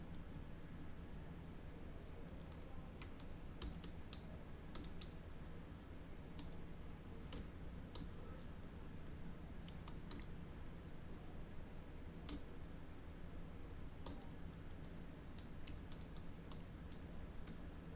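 Python code is typed on a computer keyboard in scattered sharp key clicks, some quick runs and some single taps, faint against a steady background hiss, with no voices.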